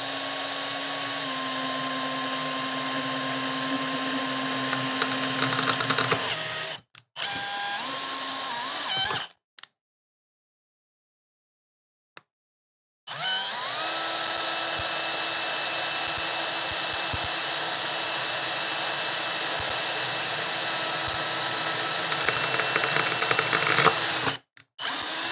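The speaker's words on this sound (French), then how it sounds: "l'idée, c'est d'utiliser une vieille lame et on va pouvoir la percer" Power drill boring a hole through an old multitool blade, a loud steady whine that runs for several seconds, cuts out, then resumes for a long continuous stretch with a few short interruptions.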